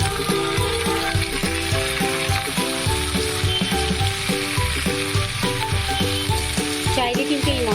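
Spinach leaves dropped whole into a frying pan of green palak paneer masala, sizzling and crackling steadily and loudly throughout, with stirring underneath and a faint harmonium-like musical background.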